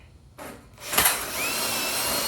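A drill bit stepped up from size 125 to 128 bores a hole in sheet metal, a brief close whine that rises after a quiet start and then holds steady and loud without anyone talking.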